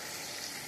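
Eggs fry in a pan with a steady, soft sizzle that holds an even hiss throughout the short moment, and no voices are heard.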